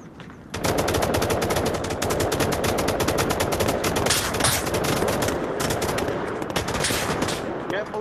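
Rapid automatic gunfire in the VR shooter Onward, a loud, continuous stream of closely spaced shots lasting nearly the whole eight seconds with brief pauses.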